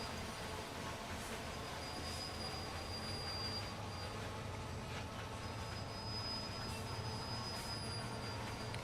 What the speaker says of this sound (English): Listen to that big 16-cylinder engine